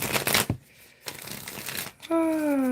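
Tarot cards are shuffled by hand in brief riffling bursts with pauses between, close and fairly loud, ending under a voice that starts speaking.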